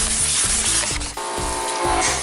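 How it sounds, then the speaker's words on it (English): Sanding a car hood by hand with fine 600-grit sandpaper to prepare it for a carbon fiber wrap, with rhythmic back-and-forth rubbing strokes about every quarter second, close and steady, no talk. "we're using 600 sandpaper, that way it will be smooth"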